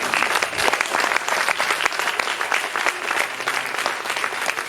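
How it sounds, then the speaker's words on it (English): An enthusiastic concert audience claps loudly and continuously, a thick wall of many hands close by that holds steady without a break. "your clap right now needs to be the biggest"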